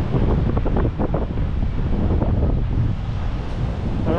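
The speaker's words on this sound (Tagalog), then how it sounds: "May dagat pala dito." Sea waves and strong wind by the shore, a continuous loud roaring wash of surf with heavy wind buffeting the microphone throughout.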